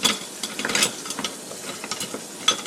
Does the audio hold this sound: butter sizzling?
yes